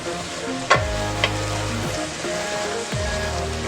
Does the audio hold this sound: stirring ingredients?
yes